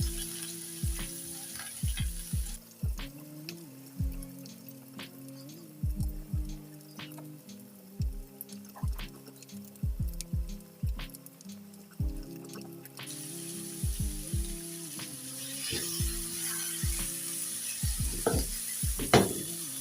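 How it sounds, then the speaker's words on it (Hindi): Chicken pieces for a tikka pasta fry in a pan with a steady sizzle, punctuated by frequent sharp clinks and scrapes of stirring against the pan, close and fairly loud. "अब हम इसको अच्छी तरह फ्राई कर लेंगे"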